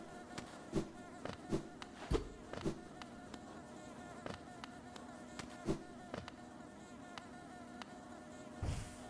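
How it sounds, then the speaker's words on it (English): Buzzing bees in the video game Hollow Knight, a faint continuous insect drone with soft, evenly scattered clicks and taps throughout, no speech. "There's bees around here."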